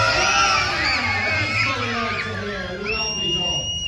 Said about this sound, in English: So, everyone, kids especially, after the count of 3, give me all the noise you've got.